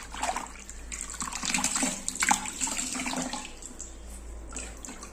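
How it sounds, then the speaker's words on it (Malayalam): A cotton cloth stained with black mildew is dunked into a bucket of plain water, making a steady, close sloshing and splashing with soft drips, fairly loud and continuous, no voices. "ഫസ്റ്റിൽ നമുക്ക് ഇതൊന്ന് വെള്ളത്തിലൊന്ന് നന്നായിട്ടൊന്ന് മുക്കിയെടുക്കാം"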